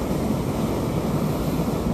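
Ocean waves break in a steady, continuous roar of surf, mixed with wind buffeting the microphone, with no voices present.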